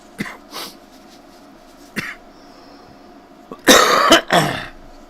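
Several harsh coughs after a bong hit: a few short ones spaced apart early, then a loud cluster of hacking coughs near the end, close to the listener with no talking.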